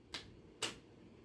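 Two slow, deliberate single claps, faint and spaced about half a second apart, in the manner of a sarcastic Joker-style clap.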